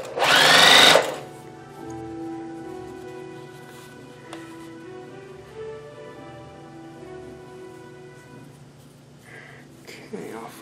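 A sewing machine stitches bias-cut fabric piping over cord, with a loud whirring burst of stitching at the start, then a quieter hum with steady tonal overtones.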